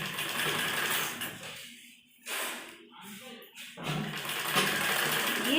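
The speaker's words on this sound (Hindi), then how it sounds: "यहाँ पर सिलाई लगाएंगे" A sewing machine stitching a blouse seam, its steady whirring run broken by a short pause midway, then resuming, with someone speaking over parts of it.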